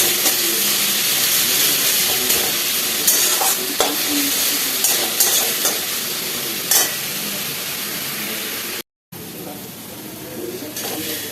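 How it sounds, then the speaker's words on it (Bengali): Ginger garlic paste sizzles and hisses in a pan while a spatula scrapes and taps against the metal. The frying stays close and steady, with a voice talking intermittently over it and a brief cut near the end. "আদা রসুনটা দেওয়ার পরে আমার ভাজা হয়ে গেছে"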